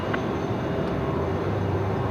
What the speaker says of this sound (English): That's got to be an A380 there, right?